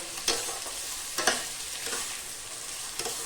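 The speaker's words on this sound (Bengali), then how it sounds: "পেঁয়াজটাকে এবার ভালো করে ভেজে নেব।" Four chopped onions fry in a pan for a chicken curry, a steady close sizzle with a few sharp spatula scrapes spaced about a second apart, no voices.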